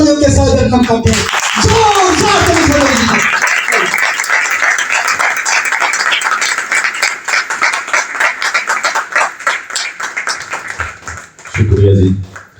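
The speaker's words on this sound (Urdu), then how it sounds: "ہم خدا کے کلام کو اور خدا کے بندہ پاسٹر ارشد بھٹی کو آپ کی بھرپور تالیوں کے ساتھ ویلکم کرتے ہیں" Congregation at a Christian gathering gives Pastor Arshad Bhatti a full, loud round of applause that carries for several seconds and tapers off, with brief talk at the start and a voice resuming at the end.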